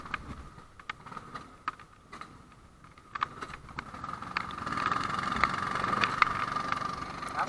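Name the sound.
go-kart engine starting and idling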